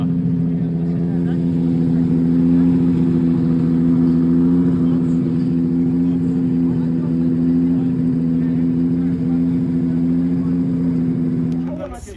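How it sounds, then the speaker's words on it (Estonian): A drift car's engine at a Red Bull car park drift event in Oman holds a loud, steady droning roar for most of the stretch, then cuts off abruptly near the end. "see auto küll lärmab täiega"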